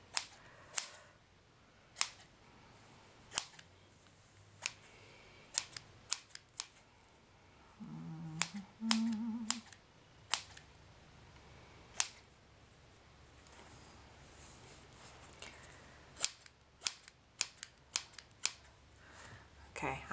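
Scissors trimming a yarn pom-pom, sharp isolated snips spaced irregularly, close and crisp against a quiet room, with a few softer handling sounds between.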